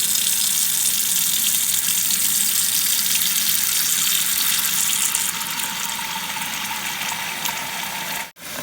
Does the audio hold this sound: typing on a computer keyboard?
no